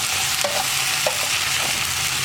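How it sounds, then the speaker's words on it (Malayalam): Mixed vegetables with capsicum and onion being stirred in a hot pan for a Kerala mezhukkupuratti: a steady, close sizzle with a few sharp spatula scrapes against the pan. "ഇളക്കി മിക്സ് ചെയ്യുക."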